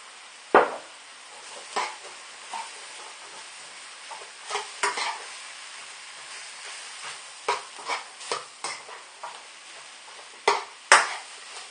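Pork stir-fry with mushrooms and bean sprouts is stirred in a hot pan, a steady sizzle broken by a dozen or so sharp utensil scrapes and clacks at an uneven pace.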